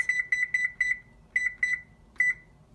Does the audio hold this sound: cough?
no